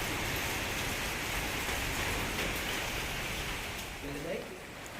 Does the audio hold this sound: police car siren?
no